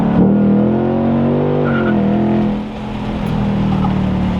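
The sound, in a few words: sports car accelerating with tires chirping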